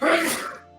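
One sharp, loud sneeze bursts out close by and fades quickly in under a second.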